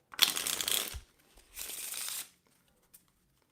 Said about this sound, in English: We'll give the deck a quick shuffle.